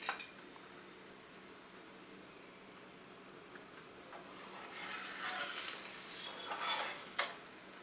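Mango puran poli made with moong dal cooks on a pan over medium gas as oil is added around the edge. A faint, steady sizzle builds to brighter crackling bursts in the second half, with a sharp clink near the end.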